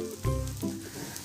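Paddu batter cooking in oil on a pan gives a soft, brief sizzle with a light wet crackle, heard up close and alone.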